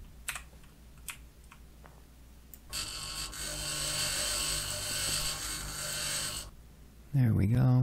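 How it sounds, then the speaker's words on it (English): A handheld grinder tool in Occupy Mars, a steady high whirring grind lasting several seconds after a few sharp clicks, ending abruptly before a louder final burst. "And then get out the grinder."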